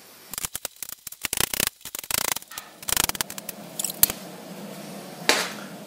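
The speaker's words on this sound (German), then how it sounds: "Also einfach eine kleine Würfel schneiden zuerst den Fenchel." A knife chops fennel into small cubes on a board, giving quick crisp bursts of cuts in irregular runs, close and clear with no talking, then thinning out toward a few final strokes.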